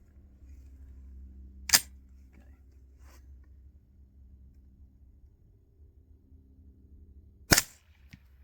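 Two suppressed 9mm shots from an AR with a 16-inch barrel and R9 silencer, firing Sellier & Bellot 150-grain subsonic rounds, each a short sharp crack several seconds apart over a low steady hum.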